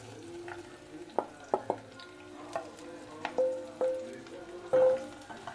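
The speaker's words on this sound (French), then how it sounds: "quand vous avez allumé votre feu et que ça commence à frire" Zucchini fry with soft sizzles in a pan while a utensil scrapes and clinks intermittently, stirring them close by.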